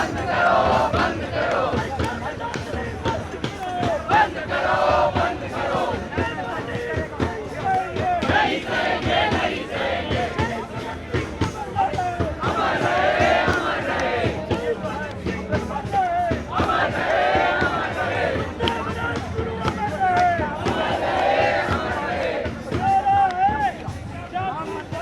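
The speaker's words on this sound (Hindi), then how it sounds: "लगातार नारेबाजी जारी है, और ऐसे में नारेबाजी धर्मेंद्र प्रधान के खिलाफ करी जा रही है" A protest crowd at Jantar Mantar chanting slogans against Dharmendra Pradhan, many voices shouting in rhythmic repeated bursts, loud and close, with a constant babble of the crowd beneath.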